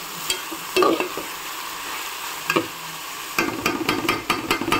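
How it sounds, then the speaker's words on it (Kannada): Ginger garlic paste sizzles in a pan while being stirred, with a steady frying hiss punctuated by sharp scrapes and clinks of the spoon, growing busier near the end. "ಇದನ್ನ ಚೆನ್ನಾಗಿ ಮಿಕ್ಸ್ ಮಾಡಿಕೊಂಡು ಫ್ರೈ ಮಾಡ್ಕೋಬೇಕು"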